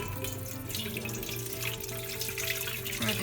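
Tap water pouring steadily into a large, heavy container to make brine for canning okra, a continuous rushing fill heard close up and alone, with a slowly shifting tone as the vessel fills.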